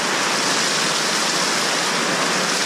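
Heavy rain falls in Florida, a loud, dense and continuous wash of hiss with no gaps, close and steady with no voices.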